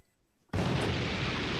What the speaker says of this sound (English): We're gonna get the explosions here.